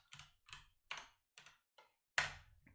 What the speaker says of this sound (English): Just typing it into the chat.